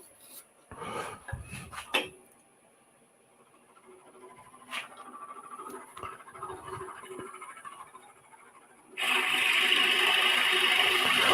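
Scratchy brushing and scraping of chips out of a metal drill bit in a woodturning shop, in short bursts, then a loud, steady whirring rasp for the last couple of seconds.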